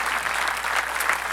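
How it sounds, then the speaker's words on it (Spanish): A church congregation applauds steadily for the Lord during a Spanish-language worship service, a dense wash of many hands clapping that holds at an even loudness for the whole stretch with no voices on top. "dele un aplauso fuerte al Señor"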